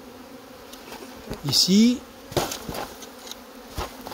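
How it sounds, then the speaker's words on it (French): Honeybees cluster at a hive during a French beekeeper's inspection, their buzzing steady and close, with one louder swelling pass of a bee near the microphone; a short spoken word breaks in briefly. "il y a une grappe d'abeilles là"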